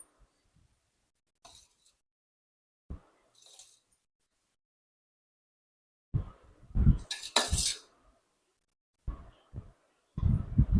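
A spoon mixes rice with peanut oil in a bowl, giving close, intermittent scrapes and clinks in short bursts separated by quiet gaps.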